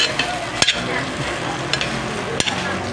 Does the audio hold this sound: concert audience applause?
no